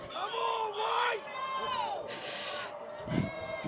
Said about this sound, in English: Township crowd getting loud ahead of this free kick.